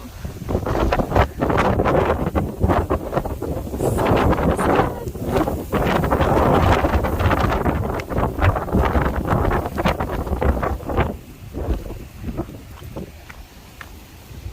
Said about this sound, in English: Also, this wind is magnificent.